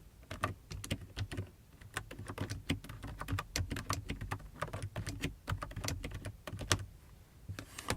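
Someone types a code comment in Python on a computer keyboard, a steady run of close, crisp key clicks with brief pauses and no talk.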